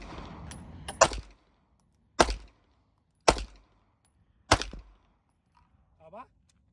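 XDF pistol fired at an indoor shooting range: four sharp, loud gunshots spaced about a second apart, each with a short echoing tail, following brief talk and background range noise.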